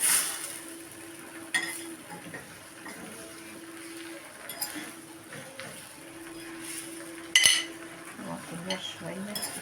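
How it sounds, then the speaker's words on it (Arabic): A pan of eggplant and egg mixture is stirred, with a spoon scraping and clinking against the metal in uneven strokes, fairly quiet and close, with a faint hum in the background. "هنقلب كله في بعضه بقى كده تقليبه"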